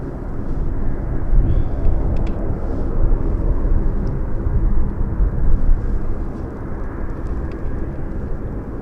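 A large jet, likely a freighter near Anchorage airport, rumbles steadily at a distance. The broad, low roar holds for the whole stretch with no voices.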